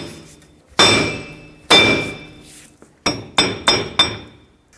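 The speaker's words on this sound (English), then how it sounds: "Take your hammer and hit the wheel bearing hub assembly till it comes out" Six sharp hammer blows ring against the front wheel bearing hub assembly of a 2009-2014 Ford F-150 4x4, two spaced apart and then four in quicker succession, each leaving a brief metallic ring.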